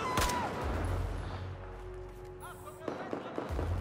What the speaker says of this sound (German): Nein, nicht schon wieder Granaten.